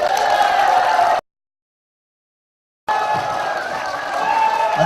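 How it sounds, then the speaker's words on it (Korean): Applause and cheering from an audience at a year-end song-class party in a Daegu convention wedding hall, as a guest singer is called to the stage, with a gap of silence between two loud stretches of crowd noise. "자, 우리 큰 박수 부탁드립니다."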